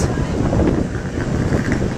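Strong wind roars and buffets continuously over flat land in Amarillo, a dense blustery rush with no pauses.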